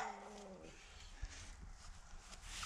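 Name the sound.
dogs barking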